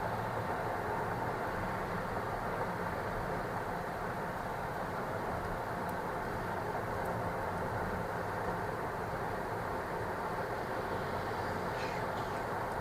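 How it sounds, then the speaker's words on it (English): Freight train rolling through the Cajon Pass near Old Route 66, a steady low rumble of rail cars heard from a distance, continuous and even throughout, with no talking. "We've got a train. Lots and lots of trains move through here."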